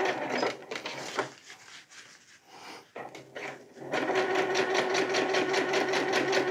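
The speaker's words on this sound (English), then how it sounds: "Do a lock stitch." A sewing machine sews a camo hammock tarp: short bursts of rapid rhythmic stitching with pauses, then a steady, louder run of fast stitching close by.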